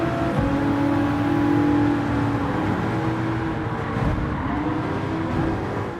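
Race car engines in Gran Turismo 7 hold a loud, sustained drone with shifting pitch, joined by tire squeal and a passing car as the cars race through the stretch.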